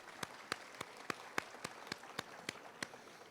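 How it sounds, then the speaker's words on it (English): Scattered applause at a 2024 King and Queen of Hearts coronation event, a small number of claps rising as distinct separate hits at an uneven pace, fairly faint and without talk over them. "Yes, give a big round of applause."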